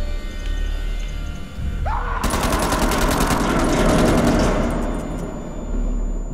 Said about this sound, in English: The bullet just went through him.